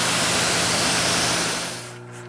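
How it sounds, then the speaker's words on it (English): A single broad hiss of a spray bottle, close and loud, fading out after about two seconds. "I'm gonna spray it on again."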